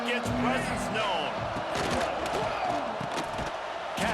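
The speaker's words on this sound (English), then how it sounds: "This crowd ready to make its presence known." A stadium crowd roars continuously in the EA Sports College Football 26 video game, a dense, loud wash with shouts and thuds in it, while an excited voice talks over the noise.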